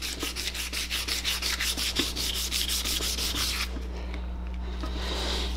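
Sandpaper rubs back and forth on a Honda CBX motorcycle part during restoration, quiet rhythmic scratchy strokes at a steady pace, then the strokes stop and a low hum remains.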